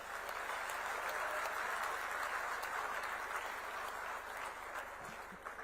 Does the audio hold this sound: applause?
yes